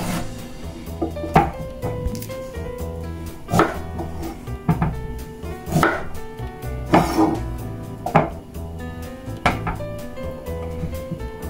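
A kitchen knife cuts away the damaged parts of a week-old sweet potato, striking a cutting board about eight times at uneven intervals with crisp, close chops.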